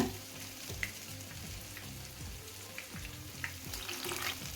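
Urad dal vada batter fries in hot oil over a medium flame, giving a steady close crackling sizzle with scattered small pops, heard alone without talk.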